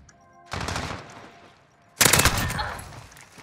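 Rapid automatic gunfire in a shooter video game, two loud bursts, each lasting about a second and cut off sharply, with quieter game noise between them.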